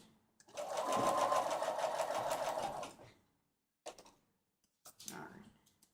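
A sewing machine stitching fabric runs in a fast rhythmic whir for about three seconds, then stops, followed by two short bursts of stitching, close and clear.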